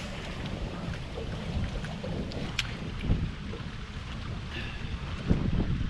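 Wind blows across Lake Lanier in November, a low steady rumble of gusts against the microphone with faint water and boat knocks, no voices.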